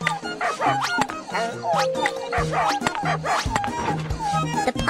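Injured cartoon puppy trapped under bricks, whimpering and yipping in a rapid series of high, wavering cries over a bed of background music, close and fairly loud throughout.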